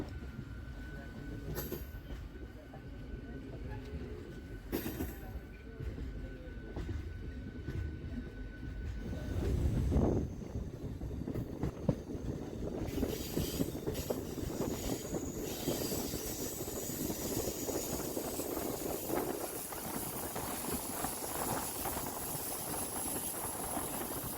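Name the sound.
local train running on Howrah–Digha line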